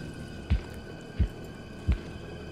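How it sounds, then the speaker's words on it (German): An elevated heartbeat from the game Medusa's Labyrinth pulses as three deep, evenly spaced thumps over a low hum, each beat short and heavy. "Immer noch dieser erhöhte Herzschlag."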